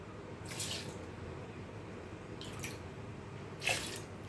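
Water added to washed rice in a kitchen before grinding for onion dosa batter: three brief splashy trickles spaced apart over a quiet background hiss.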